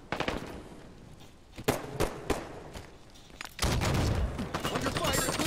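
Gunfire in Halo 5 crackles in sharp bursts, a few spaced cracks early giving way to a denser continuous volley near the end, with talk mixed in.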